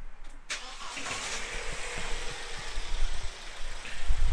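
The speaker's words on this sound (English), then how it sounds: "I'm going to start the engine up" A car engine is cranked and catches about half a second in, then runs steadily at idle, close and fairly loud, ready for a live compression waveform check.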